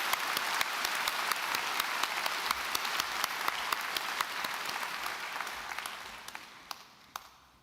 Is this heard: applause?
yes